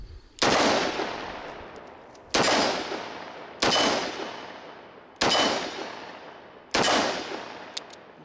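Five sharp gunshots from a Ruger LCR revolver firing Remington .38 Special +P ammunition, evenly spaced about 1.5 seconds apart, each loud crack followed by a decaying echo.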